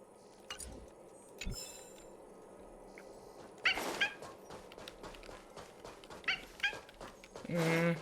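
A puppy whimpers and yips in the Honkai: Star Rail video game, with faint scattered barks and squeaks over quiet game ambience, and a louder burst near the end.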